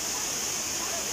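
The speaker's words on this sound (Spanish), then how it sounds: "es muy visitada esta cascada" Velo de Novia waterfall pours with a constant even rush of falling water, heard only briefly as a steady hiss.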